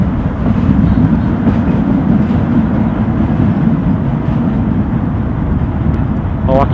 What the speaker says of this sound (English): The sound you can hear is a metro train